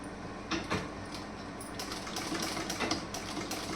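A domestic sewing machine run slowly, stitching a straight seam to join the back and front panels of a beaded garment; a soft, even mechanical whirr with faint rhythmic ticking plays quietly and close, with no talking.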